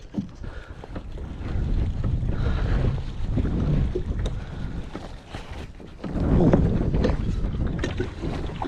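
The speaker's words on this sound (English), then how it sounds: "the wind's blowing" Wind gusts across an open lake around a Native Slayer Propel Max kayak, a steady rushing buffet on the microphone with a louder surge near the end and faint water sounds underneath.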